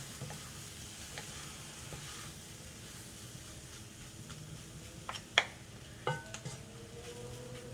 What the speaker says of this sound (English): We're gonna cook the chili powder a little bit.